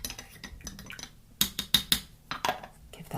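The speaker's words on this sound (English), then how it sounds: "Give that a little stir" A spoon stirs a cup of green tea, giving a handful of sharp, close clinks against the cup in a loose, uneven rhythm over a quiet background.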